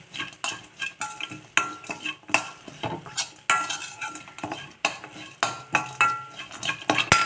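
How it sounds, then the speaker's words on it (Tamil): Grated coconut roasting in a hot pan while being stirred, with repeated scraping strokes of a metal spatula in an uneven rhythm and a faint dry sizzle underneath. "இப்போ வந்து தேங்காய் இதை நல்லா வறுத்துடலாம்"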